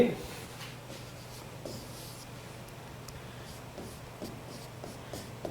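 Chalk or marker scratching across a board in a chemistry lecture, a string of soft strokes with gaps between them, low and steady over a faint room hum.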